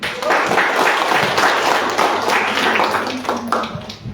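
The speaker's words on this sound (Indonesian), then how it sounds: "Ya, tepuk tangan dulu." A class of students in a civil case handling course breaks into loud, close applause, many hands clapping in a dense burst that gradually thins toward the end.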